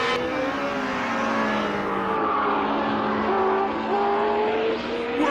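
A Honda Formula One race car screams along a circuit, its high engine note rising and shifting through gears as it passes, with the roar of other cars layered in the background; there is no talking.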